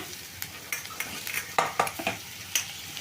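Chopped cabbage tossed into a hot pan for cabbage kurma, close and moderately loud, with repeated stirring scrapes and clinks of a utensil over a soft frying sizzle, no voices.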